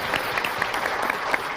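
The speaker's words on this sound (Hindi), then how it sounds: "एक बार इन बच्चों के लिए जोरदार तालियां बजाइए।" Audience at a children's poetry competition clapping loudly for the young participants: brisk, dense applause from a sizable crowd, near and continuous with individual claps popping out of the wash.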